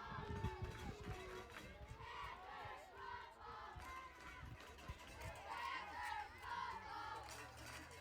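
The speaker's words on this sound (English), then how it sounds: "You can hear I don't know if you guys can hear the PAC crowd, but the PAC crowd is into it." A PAC home crowd at an 8-man football national championship game roars and shouts in a dense, continuous wash of voices, distant and fairly faint, with thumps and scattered calls throughout.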